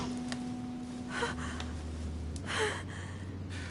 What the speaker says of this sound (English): Her breathing is becoming stable and...